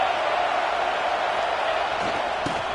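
Dense, steady roar of a stadium crowd at an American football game, loud and continuous throughout with a brief thump near the end.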